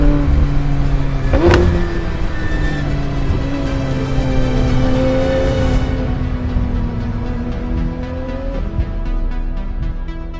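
A Porsche sports car accelerates hard from inside the cabin, its engine tone climbing then easing off as it settles, loud and close.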